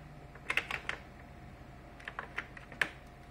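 Keys clatter on an Amiga computer keyboard, a quick burst of several taps followed by a pause and a few more scattered, close and moderately quiet with no talking.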